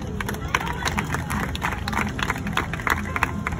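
A crowd at a state fair in West Virginia claps in a quick burst of applause lasting a few seconds, with some background chatter mixed in.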